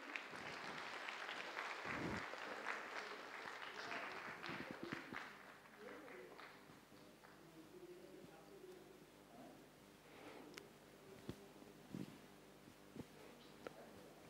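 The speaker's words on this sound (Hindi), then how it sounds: "ताली बजाएंगे" Audience clapping for children after their skit, a soft, somewhat distant round of applause lasting a few seconds before fading into quiet room noise with scattered faint knocks and shuffles.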